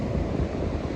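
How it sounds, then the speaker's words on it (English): Ocean surf on a beach at Iles de la Madeleine, a steady, close roar of breaking waves with a low rumble and an airy wash, continuous and alone. "by the ocean, by the sound of the waves"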